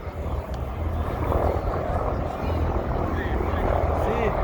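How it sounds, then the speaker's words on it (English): Helicopters arriving at the Serbia Air Show 2022 give off a loud, steady rotor thrum and engine whine that sweeps on for several seconds, with crowd voices murmuring faintly beneath. "Here comes the helicopters."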